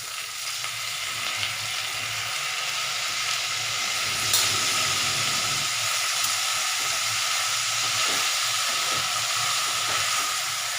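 Mint leaves and coconut pieces sauté in a pan for mint chutney, a steady hissing sizzle that swells slightly midway, close and even, with no voices.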